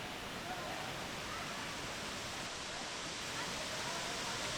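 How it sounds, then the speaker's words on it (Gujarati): Bee Falls waterfall in Pachmarhi gives a steady, dense roar of falling water, even and unbroken throughout, with no other sounds standing out. "ઉપરથી જે આમ આખો જે ધોધ પડી રહ્યો છે"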